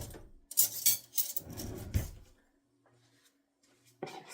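A spoon clatters and scrapes against a bowl while mixing honey and mustard, a busy stretch of close scraping and clinks that fades to near silence, with a short knock at the end.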